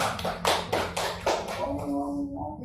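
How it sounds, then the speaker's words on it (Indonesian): A classroom of students claps in a quick, steady rhythm of sharp hand claps, close and loud, then the claps fade out into a low room hum. "Oh iya, tepuk tangan."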